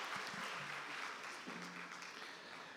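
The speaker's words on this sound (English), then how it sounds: "Could we give them another round of applause?" Applause from an audience at a national health campaign launch ceremony, a broad steady wash of clapping held for a few seconds with faint voices underneath.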